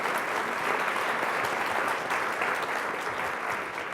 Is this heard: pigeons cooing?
no